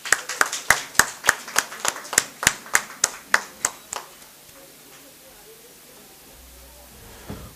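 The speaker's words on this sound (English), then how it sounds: "Could we have a round of applause for Amrita Madam?" About fourteen sharp, evenly spaced hand claps ring out close by at an international seminar on human security and governance, welcoming a guest to the stage, then stop after about four seconds into quiet room tone.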